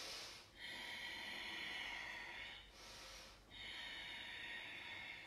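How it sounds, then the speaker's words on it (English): Deep, slow inhale during a flowing yoga session for cyclists, heard as soft airy breath rushing in long swells with brief pauses between, close and quiet. "Take another big inhale."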